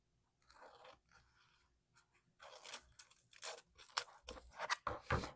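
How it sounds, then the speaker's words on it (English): Pinking shears trim along a fabric or paper edge in a rapid series of close, crisp crunching snips, each cut a short burst, growing busier and louder toward the end. "I'm going to trim off this edge. Get the pinking shears out of the way."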